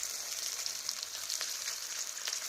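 A fish fries in a pan until it scorches black, giving a steady, close crackling sizzle with brief sharper pops, and no voices.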